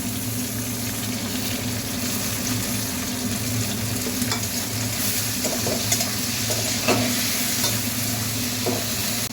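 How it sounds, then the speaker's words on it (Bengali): Ginger paste and chopped tomato frying in a pan for aloo dum, a dense constant sizzle with a few scraping stirs, close and steady, with no voices. "তারপর দিয়ে দিচ্ছি টমেটো কুচি"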